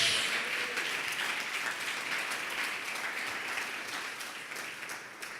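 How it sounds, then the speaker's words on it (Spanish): A church congregation claps with hands raised overhead, producing dense, sustained applause that fills the space at a steady level and eases slightly toward the end. "Aplauda arriba de su cabeza y grite gloria a Dios."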